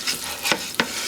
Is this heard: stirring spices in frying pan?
yes